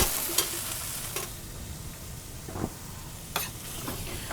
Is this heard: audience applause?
no